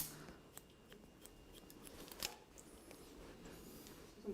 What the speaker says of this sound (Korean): 다시 잡고 앞쪽으로 라인 시닝을 해보세요.